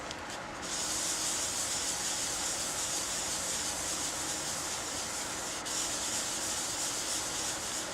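A wood lathe spins a sinker cypress turning while finish is rubbed onto it, a constant close hissing friction that runs steadily with no speech.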